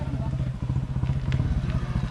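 A motorcycle engine runs close by with a steady, throbbing low rumble and rapid pulsing beats, while people talk over it.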